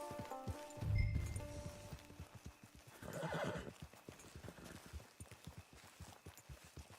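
Horse hooves clip-clop steadily in Red Dead Online, with a loud whinny near the start and another neigh around the middle, the walking hoofbeats continuing close throughout.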